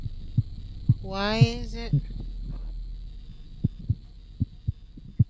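Low, regular heartbeat thumps pulse from an old machine in The Cat Lady video game, set against a steady hum, with a short spoken phrase near the start.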